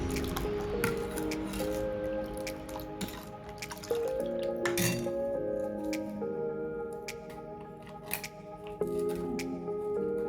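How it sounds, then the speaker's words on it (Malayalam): Ice cubes clink and roselle juice sloshes as the drink is stirred, with soft squishing and dripping sounds close by. "ഐസ് ക്യൂബും കൂടെ ഇട്ടിട്ട് നന്നായിട്ടൊന്ന് കലക്കി കൊടുക്കാം"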